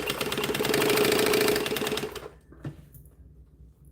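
A sewing machine stitches fabric for a scrap-busting trollop bag, running in a fast, steady rattle for about two seconds before stopping, then a few soft handling clicks.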